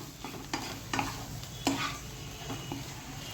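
A potato taco stuffing with turmeric and Kashmiri red chilli powder is mixed in a pan: a quiet sizzle runs underneath while a spoon scrapes and clacks against the pan in uneven strokes.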